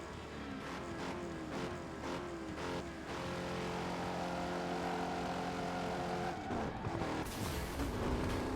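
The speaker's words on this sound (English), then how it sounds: "Rev up the Bugatti" Bugatti engine revving in the Burnout Paradise racing game, a high droning engine note that climbs and holds steady for several seconds, broken by a few sharp bursts, then surges again toward the end, with no talking over it.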